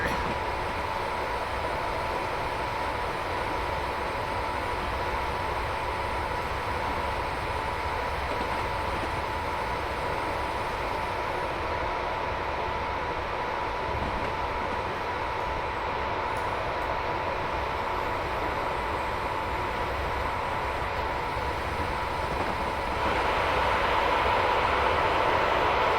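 A steady rumbling drone from the Royal Scot train in the Train Simulator Classic game, echoing as it runs through a cutting, loud and continuous with little variation.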